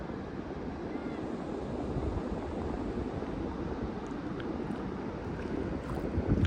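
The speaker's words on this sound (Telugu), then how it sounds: "అది చూడండి అలలు ఎట్లా వస్తున్నాయో." Sea waves rolling in at a beach make a continuous, even roar of surf mixed with wind, steady and moderately loud throughout.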